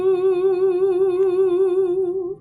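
A single sustained sung vowel held on one note, its pitch wavering in a steady, regular vibrato, loud and close before fading at the end.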